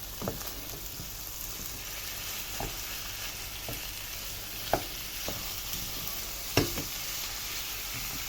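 Minced meat frying in a pan for béchamel macaroni, a steady low sizzle with a few sharp clicks of a utensil against the pan, no talking.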